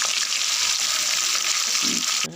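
Fish pieces dropped into hot oil sizzle loudly and steadily in a pan for a home-cooked wedding-style meal, a dense continuous frying hiss close up.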